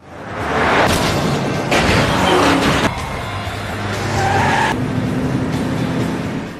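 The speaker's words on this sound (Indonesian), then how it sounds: "lanjut menggeber mobil mereka" Cars roar and skid during a chase scene in a film, with engine revving, bursts of tire noise and sharp whooshes passing close in quick succession, loud throughout.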